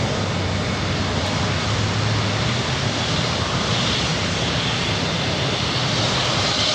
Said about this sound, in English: This takeoff is United Airlines Flight 1488 taking off to Newark.